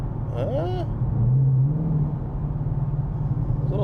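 A 2018 Ford Mustang idles as it runs out of gas, its low engine rumble rising briefly and then faltering in a small stumble, with a person speaking over it near the start.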